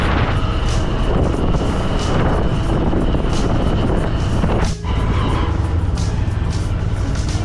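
A motorbike rides along the red soil road at Gangani, a loud continuous engine drone mixed with heavy wind buffeting, steady throughout with one brief dip near the end.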